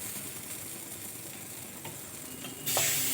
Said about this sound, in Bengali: এভাবে উল্টিয়ে একটু চেপে চেপে দিতে হবে।